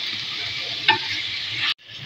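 Chicken and garlic fry steadily in hot oil with a continuous sizzle, broken by a brief spoon scrape near the middle, then the sound cuts out and resumes more quietly.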